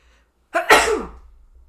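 One sharp human sneeze: a brief intake, then a loud explosive burst that fades quickly in a quiet room.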